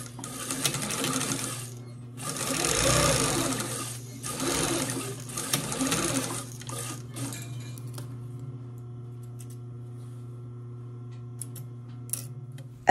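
A serger stitches the waist and shoulder seams of a dress in several bursts of rapid, even whirring, with short pauses between runs, then the motor stops and only a faint steady hum remains.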